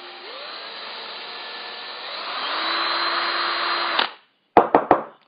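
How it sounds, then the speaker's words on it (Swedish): A power drill bores into wood while a fishing lure is being built, a steady whine that rises in pitch midway and runs about four seconds, stops, then three short sharp bursts follow. "nu när jag borrar då att jag håller rätt vinkel"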